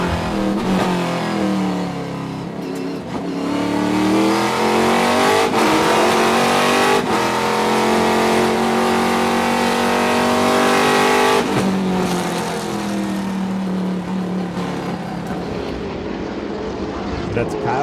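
A Trans Am Series race car roars past at Sonoma Raceway, its engine rising and falling through gear changes as it passes, loud and close, with a commentator talking over it.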